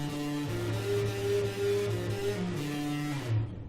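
A guitar plays a slow, sustained riff with notes bent up and down in pitch on G, ringing steadily throughout, with no voices.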